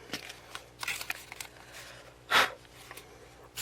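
Scissors trimming paper for a handmade memory box: a few close snips and crisp paper rustles at a desk, with a sharper cut and handling noises between quiet gaps.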